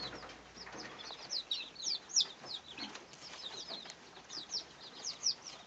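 Chickens clucking and squabbling outdoors in a brief scuffle, with sharp, irregular high clucks and squawks in short bursts at moderate distance, plus faint wing flutters and no talking.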